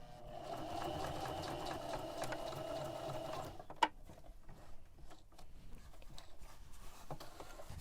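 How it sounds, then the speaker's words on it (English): A sewing machine stitches a straight 5/8 inch seam on a custom fabric cover for an Olympian Wave 3 heater. A steady, close mechanical whir runs for about three seconds, then drops to quieter, intermittent ticking. "And now we're just sewing the other side, and it's just a straight 5/8 inch seam"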